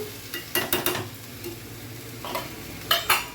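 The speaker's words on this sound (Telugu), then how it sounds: "కలబెట్టుకుంటూ మాడకుండా చూసుకోవాలి." Broad beans in a stir-fry are stirred around a pan with a spoon, giving several quick scraping clatters in bursts over a low background sizzle, heard up close with no speech.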